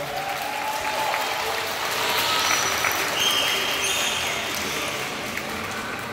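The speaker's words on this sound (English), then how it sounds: "Let's give them one final round of applause." An audience at an Ocean Adventure Marine Park dolphin show gives a steady round of applause, a dense wash of many hands clapping at moderate distance that swells slightly midway and holds evenly to the end.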